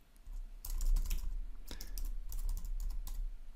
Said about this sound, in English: I type in Truffle migrate, but with the network